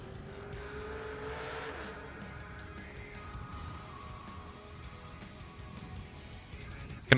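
A door car makes a drag racing run at a strip, its engine note sweeping and fading into the distance, with a loud burst right at the end.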